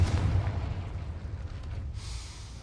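A Confringo blasting spell goes off in a Harry Potter video game. A deep, rumbling explosion booms at once and then fades into a low, crackling roar over about two seconds.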